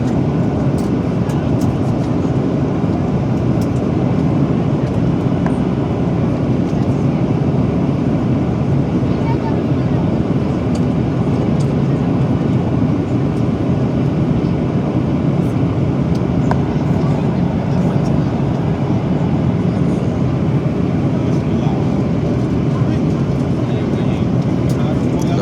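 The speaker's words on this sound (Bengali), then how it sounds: "এমনকি আস্তে আস্তে নিচের দিকে নামছে বিমান।" Airliner cabin during the night descent toward Johannesburg, a steady, loud, broadband roar of engines and airflow that stays constant throughout, with no break and no speech.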